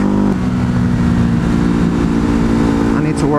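Ducati Hypermotard motorcycle engine on an aftermarket tune, revving loudly and steadily as it accelerates through a highway cloverleaf, with a brief throttle change near the start and a rising pitch at the end.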